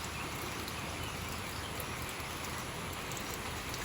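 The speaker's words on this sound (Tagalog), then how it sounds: "Lumalakas na talaga yung ulan mga palangga oh." Heavy rain pouring steadily during an approaching strong typhoon, a dense continuous hiss of drops drumming on surfaces, loud and close with no pauses.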